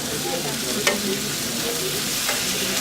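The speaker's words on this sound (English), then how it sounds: "if some of the potatoes are hard, just mash it" Potato stuffing for dabeli sizzles in a pan while a spoon stirs and mashes it, giving a steady frying hiss broken by a couple of sharper scraping knocks.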